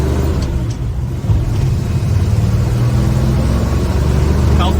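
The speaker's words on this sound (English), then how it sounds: "Healthy exhaust system coming out the back." A 1966 Chevrolet C10 pickup truck driving, its engine and exhaust producing a loud, steady low rumble that continues throughout the short clip with no talking.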